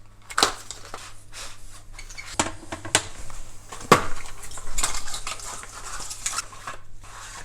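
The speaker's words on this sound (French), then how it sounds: "Donc la barre LED, on va la déballer ensemble." Rustling and clattering of packaging as an LED light bar for a kitchen worktop is unpacked, with irregular crinkles, taps and knocks close to the microphone at moderate level.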